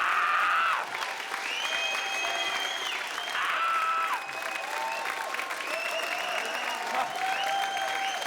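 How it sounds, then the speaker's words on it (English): A large concert crowd applauds and cheers for Metallica at a studio show in Melbourne. The clapping is dense and sustained, with whistles and shouts rising through it, loud and continuous from start to finish. "The crowd goes wild."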